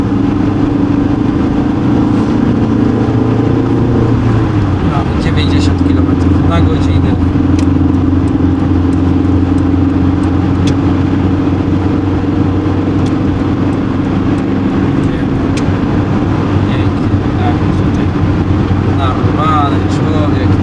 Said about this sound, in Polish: No i jedziemy, czwarty bieg. Spróbujemy ją teraz troszkę rozpędzić.